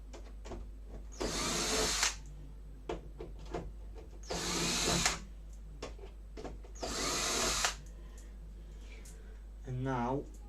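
A power tool whirs in three bursts of about a second each, unscrewing VESA mount screws from a faulty TV, close and loud, with a short speaking voice near the end.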